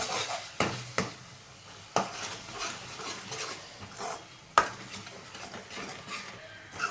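Curry with spices and ground masala being stirred in a pan, with a gentle sizzle under repeated scraping strokes and periodic spoon knocks against the pan's edge, close by and without talk.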